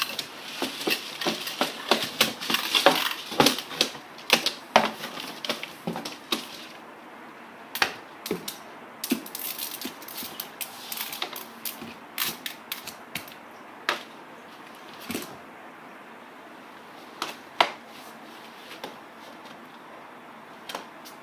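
Spilled stainless steel tumbling pins for a Frankford Arsenal wet tumbler being gathered up by hand, giving many light, sharp metallic clicks and tinkles, dense for the first few seconds and then sparse and scattered.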